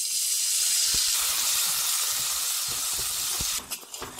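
Water poured into melting jaggery in a pan for til gud burfi sizzles with a steady, close hissing that runs throughout, then breaks into a few bubbling pops near the end.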